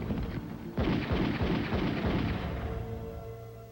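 Gunfire in a midnight gun battle, beginning with a sudden loud burst that breaks into a rapid crackling volley of shots, then fades into a rumbling echo, all without talking.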